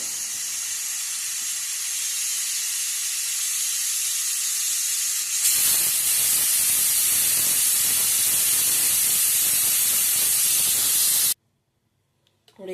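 A loud, continuous hiss of steam escaping from a pressure cooker, growing harsher partway through before cutting off abruptly into near silence.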